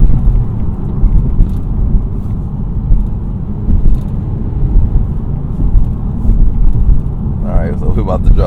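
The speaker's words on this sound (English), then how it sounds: "if I floor it, it's gonna instantly jump to that RPM" A CVT-equipped Acura Integra is floored, its engine holding a steady droning roar at a constant pitch under full throttle, loud and continuous, with a brief burst of other sound near the end.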